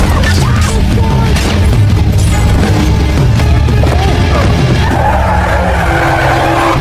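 A car brakes hard with tires skidding in a violent street confrontation, where a motorcyclist is thrown onto the car; a loud, sustained screech and rumble fill the whole stretch, with crash-like impacts mixed in.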